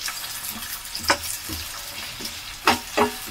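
Sliced onions frying in a hot pan give a steady sizzle, broken by a few sharp clatters and stirring knocks.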